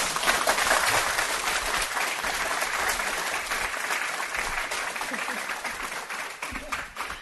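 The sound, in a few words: audience round of applause for panel speakers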